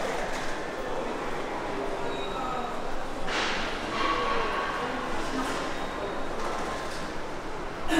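A subway train runs through a metro station as a steady, loud broadband rumble and rush of wheels on rails, with brief brighter swells and no clear voices on top.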